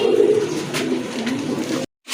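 Pigeons at a pigeon market coo in low, soft, repeated murmurs close by, over a steady background hum of the market, ending in a brief moment of silence.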